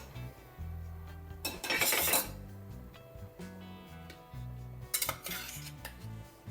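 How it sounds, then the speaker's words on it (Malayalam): Metal utensils clink and scrape against a pot as half a kilo of fish goes into boiling roasted-coconut curry, with a couple of louder clattering bursts over a low steady hum in the background. "ഇനി മീൻ ഇട്ട് കൊടുക്കാം"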